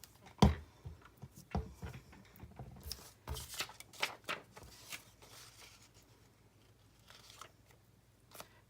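Scissors snip through a paper journaling tag on a craft table, a few short crisp cuts and rustles close by, quiet and intermittent with small paper shuffling sounds between them.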